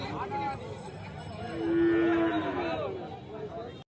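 A cow lets out a long, loud moo amid a busy outdoor crowd murmur at a cattle market, with other livestock sounds nearby.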